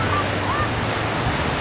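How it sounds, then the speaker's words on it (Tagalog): Strong waves surge onto a beach at Dibut, San Luis, Aurora, a steady loud wash of surf mixed with wind rumble across the whole stretch, with no voices. "lakas ng alon"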